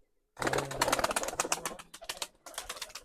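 Pigeons in a coop give low, soft coos beneath busy fluttering and scuffling, close by and continuous with a brief pause.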